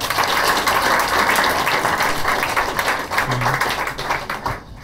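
Steady, dense applause from a live comedy audience, many hands clapping continuously at close range before tapering slightly at the end.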